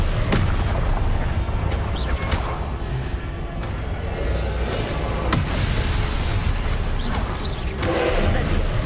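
Explosive Confringo spell blasts in Hogwarts Legacy go off amid loud, dense combat noise, with several sharp bursts scattered through a constant heavy roar.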